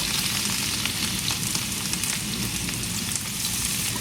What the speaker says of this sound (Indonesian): Saya akan menggoreng nangkanya ini dengan minyak yang sedikit ya